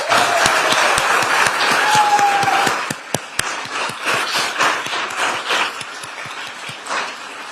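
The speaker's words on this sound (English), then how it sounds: "they deserve a round of applause" Audience applause for a commissioner's staff at an environmental justice symposium, loud dense clapping that thins after a few seconds into fewer, louder individual claps close by.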